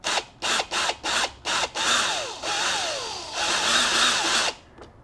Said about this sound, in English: Let's drill them in now and see what happens.